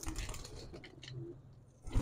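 Soft, low pigeon coos murmur through the short stretch, with faint rustling and a louder thump near the end.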